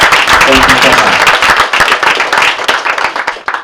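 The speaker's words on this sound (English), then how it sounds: "Can we give a round of applause for these two great House members who supporting us today?" Audience applause at a congressional round table on trans health and safety for two House members: dense, loud clapping from a room full of people, a voice briefly heard at the start, tapering near the end.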